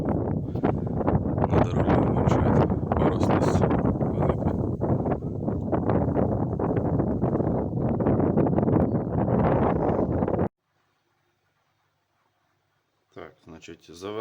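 Strong wind blowing outdoors by the water where people fish, buffeting the microphone with a loud, continuous rushing roar that cuts off abruptly into near silence before a short gust returns.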